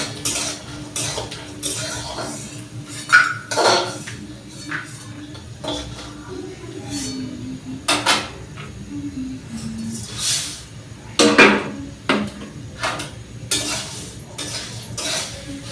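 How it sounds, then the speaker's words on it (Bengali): Puffed rice stirred in a pan with a little mustard oil left after frying peanuts: repeated metal scrapes and clinks of a spatula against the pan, close and irregular. "বাদামগুলো ভাজার পর একটু সর্ষের তেলে ছিল তাতে একটু মুড়িগুলো নেড়ে নিচ্ছি"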